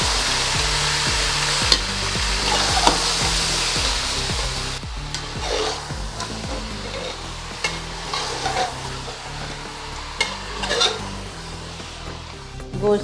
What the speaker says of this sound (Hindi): गोश्त को शामिल करने के बाद हम इसे फ्राई करेंगे गोश्त का कलर चेंज होने तक